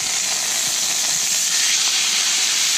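Cilantro lime chicken, just flipped with tongs, sizzles in a hot pan with a steady, close, even hiss and no pauses.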